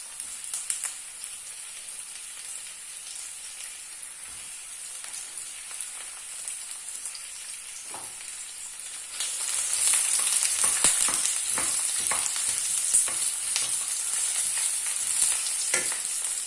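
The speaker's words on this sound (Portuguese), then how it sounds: "E vamos deitar os legumes. Vamos deitar primeiro a cebola." Onion frying in a pan over medium heat, a steady hissing sizzle that swells louder midway as the pieces hit the oil, with scattered crackles and stirring, close and continuous.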